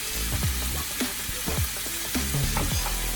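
A vegetable medley sizzles and fries in an uncovered pan, with a constant close crackle and repeated stirring scrapes at an irregular pace. No one speaks.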